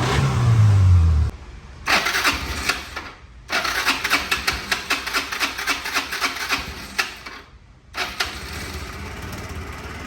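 The small engine of a Suzuki Carry kei truck cranks and starts, then runs with a rapid, buzzy, moped-like putter and a few revs, loud and close, with brief dropouts.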